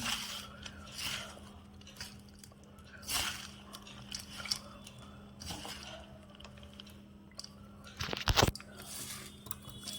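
Bhelpuri with chopped onion and coriander is mixed in a bowl, giving soft, quiet scraping and faint clinks over a low steady hum, with a sharper clatter near the end.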